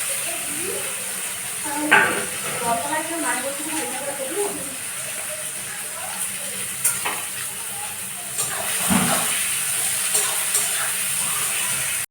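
Meat frying in hot oil in a pot for biryani, the oil already used to fry potatoes: a continuous close sizzle with bursts of spattering and stirring scrapes, as someone talks over it.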